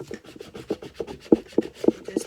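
Rhythmic rubbing and scraping strokes as transfer tape is pressed down onto a DIY beauty rolling tray, about a dozen close, steady passes growing firmer toward the end, with no talking.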